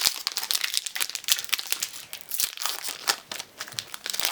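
A Pokémon card booster pack wrapper being torn open, close and loud, with continuous crinkling foil rustles and sharp tearing bursts throughout.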